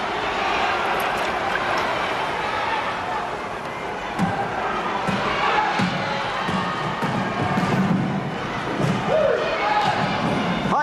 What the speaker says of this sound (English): What a welcome the crowd is giving the Milk Trotters today.